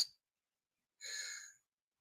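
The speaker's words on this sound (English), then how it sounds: "I'm yawning over and over again here" A person yawns, giving a brief breathy exhale followed by a longer airy, hissing yawn of about half a second, close and quiet, with silence between.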